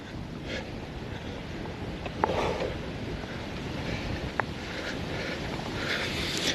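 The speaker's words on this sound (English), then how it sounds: "Oh man, this wind is brutal." Strong, brutal wind roaring and buffeting the microphone outdoors, a dense continuous rumble with occasional faint clicks and no talking.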